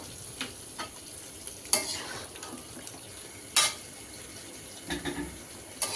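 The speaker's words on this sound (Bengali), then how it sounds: "পেঁয়াজটা ভাজা হয়ে গেছে এখন আমি মাংসটা দিয়ে দিচ্ছি" Meat added to fried onions sizzles in a pan with a soft constant frying hiss, broken by a few sharp clinks and scrapes of a spoon stirring against the pan, close and fairly quiet.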